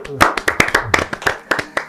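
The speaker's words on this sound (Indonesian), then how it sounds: "Ya, kita tepuk tangan dulu lah." Several people in a podcast studio clap their hands, a short burst of about a dozen distinct, close claps in an uneven rhythm, with a voice briefly underneath.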